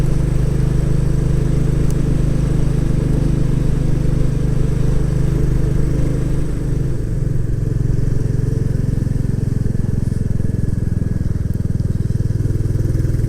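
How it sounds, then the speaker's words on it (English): A loud, continuous roar of motorcycle engines droning and revving together at the Olivers Mount race circuit, dense and unbroken throughout. "massive noise of revving engines"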